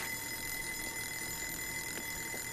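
Egg timer ringing in the video game Joe's Diner on PS4, a steady continuous high-pitched ring with a faint bell tone that runs the whole time, with no talking.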